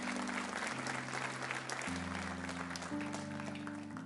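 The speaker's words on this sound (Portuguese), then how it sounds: "Aplauda Ele." Church congregation applauding at a Pentecostal-style service, a steady wash of clapping under sustained organ or keyboard chords, moderately quiet and continuous throughout.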